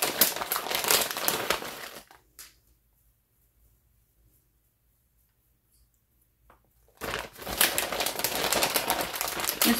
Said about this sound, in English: We're going to cover it with foil.